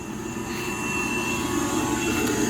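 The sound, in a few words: air blower running aeration lines in growout tanks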